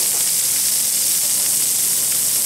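Yellowmouth Corvina seabass from Baja frying in oil on a griddle, covered by an upturned pan: a loud, continuous close sizzle and hiss with no pauses.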